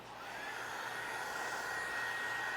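A heat gun blowing hot air to warm paint protection film on a 2007 Porsche 911 Turbo, a steady close whooshing roar with a faint whine that holds level throughout.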